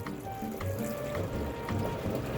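Plain tap water being poured into an ultrasonic cleaner used for rock tumbling, a continuous close gurgling fill with splashy trickling that runs steadily throughout.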